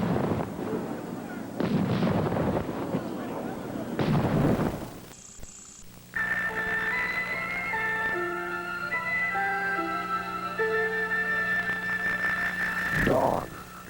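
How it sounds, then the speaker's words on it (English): Three heavy booming cannon shots from a 1986 Civil War reenactment of First Manassas crash out one after another, followed by a sustained musical tone and one more burst near the end. "We'll be going into it with cannons roaring next on Primetime."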